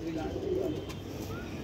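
Feather-footed pigeons of a single breed with fully closed tails coo softly on a rooftop loft, a low steady murmur of calls running through the moment with a voice faintly present in the background.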